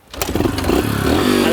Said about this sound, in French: Ma moto!